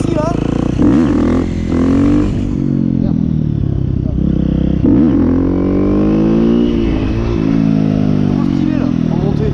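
A motorcycle pulling a wheelie up a slope, its engine revving in rising and falling surges close by while someone talks over it.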